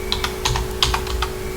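Keys clatter on a computer keyboard as code is typed, a quick run of close, crisp keystrokes over a steady electrical hum with no talking.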